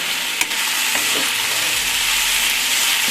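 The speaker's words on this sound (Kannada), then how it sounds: "ಇದನ್ನು ಹಿಂಗೆ ಫ್ರೈ ಮಾಡಬೇಕು." Chopped tomatoes fry in hot oil for a home-style junka curry, a close, steady, hissing sizzle with a faint stirring tap near the start.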